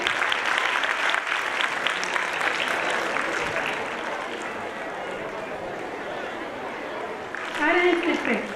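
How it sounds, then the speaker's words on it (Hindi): Sustained audience applause at a school annual gathering as guests are welcomed onto the stage, a dense steady wash of clapping from a large crowd, with a voice breaking in near the end. "आप लोग जोरदार तालियों से स्वागत कीजिए इन लोगों को"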